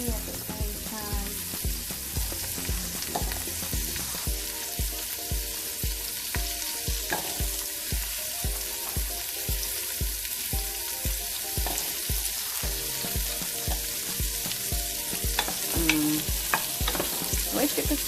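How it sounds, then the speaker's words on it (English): Celery sauteing and sizzling in a pot as the base for a homemade soup, a steady close frying hiss with rhythmic stirring scrapes throughout and no talking. "I also like to saute some of the celery at the same time."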